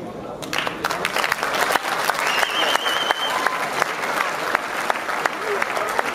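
Audience applause at a boxing club's team presentation, a steady clapping crowd with occasional louder sharp claps throughout.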